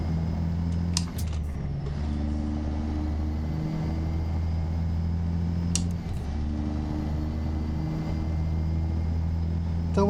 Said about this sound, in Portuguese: Liguei o freio motor.